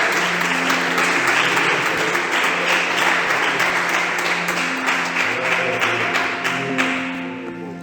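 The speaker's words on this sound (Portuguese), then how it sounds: "Podeis assentar, mas aplaudindo e glorificando o nome do nosso Senhor." A church congregation applauds steadily and loudly throughout a worship service, dense clapping filling the room with faint voices and music tones underneath, tapering slightly toward the end.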